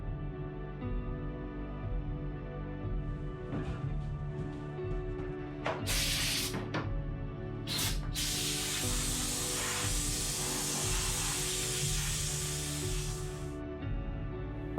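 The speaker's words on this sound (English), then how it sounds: "spray it with an epoxy primer to keep the metal sealed and prevent it from rusting" Spray bursts of epoxy primer coat bare metal inside a Talbot Express campervan: two short hissing blasts, then one long continuous spray lasting several seconds, close to the microphone over a steady low hum.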